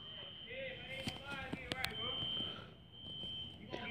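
A smoke or fire alarm in an apartment building sounds a steady, high, continuous electronic tone throughout, with someone talking over it and a few sharp knocks.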